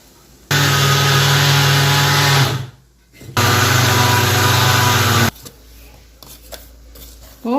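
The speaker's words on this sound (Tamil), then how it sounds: "ஸோ இதையும் மறுபடியும் இதோடு போட்டு நம்ம இன்னொரு தடவை அரைக்க போகிறோம்" A mixer grinder grinds curry leaf podi in two loud, steady whirring runs of about two seconds each, separated by a short pause, close and without talk.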